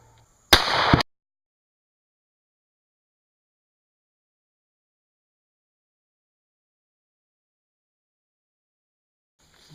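A hot glue slug fired into a helmet makes one sharp, loud blast lasting under half a second, then near silence follows for the rest of the span.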